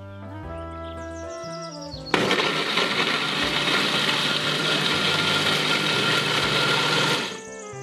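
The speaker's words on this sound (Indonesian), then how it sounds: "Aku menggunakan blender ya teman-teman dan ditambahkan sedikit air agar hasilnya lebih halus." Electric blender grinding spices with a little water, a loud steady whirring roar that starts abruptly after some background music and runs for about five seconds before cutting off.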